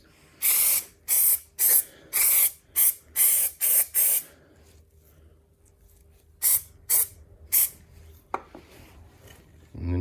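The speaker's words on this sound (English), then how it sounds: "Blue Hylamar spray, which I got from somewhere" A spray can of Blue Hylamar jointing sealant on a Honda GX160 engine fires a quick run of short, sharp hissing bursts, then pauses and gives a few more, close and loud.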